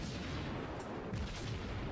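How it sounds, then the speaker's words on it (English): In World of Warships, torpedoes strike a ship with a dense, rumbling wash of low explosive booms lasting a couple of seconds, heavy and continuous rather than sharp. "And we got our torpedoes coming in there."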